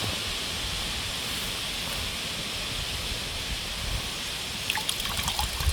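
Water trickles and dribbles steadily at a pond's edge as a 41 cm perch is released, a continuous close splashing wash with a few sharper drips near the end, no voices.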